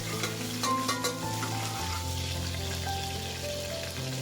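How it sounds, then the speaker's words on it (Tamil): Green chilies and crushed ginger sizzle and fry in hot oil while being stirred, a close, steady crackle with occasional scraping throughout. "அப்புறமா இடித்து வச்ச இஞ்சியும் இதில் போட்டு நல்லா ஃப்ரை பண்ணிக்கலாம்."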